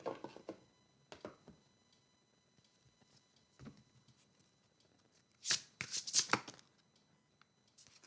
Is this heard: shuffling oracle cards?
yes